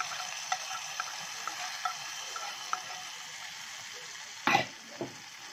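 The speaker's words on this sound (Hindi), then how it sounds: "अब हम तड़का इसमें मिक्स कर देंगे।" A spoon clinks and scrapes lightly against a bowl while stirring tempering into bottle gourd raita, in scattered, quiet taps, with one louder clatter near the end.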